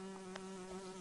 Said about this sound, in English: It's a Minecraft bee!